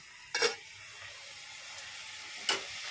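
Boiled cabbage cooks in a pan with spices, a faint steady sizzle broken by two short, sharper bursts of stirring or scraping.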